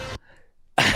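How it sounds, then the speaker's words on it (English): A wrestling commentator at a WWE Clash event clears his throat with a brief rough rasp into a near-silent broadcast mic, framed by loud bursts of crowd or arena noise just before and after. "trying to clear his throat."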